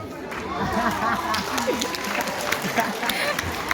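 Audience applause at a state-level youth festival in Ranchi, a dense steady wash of clapping from a crowd with chatter and voices mixed in throughout.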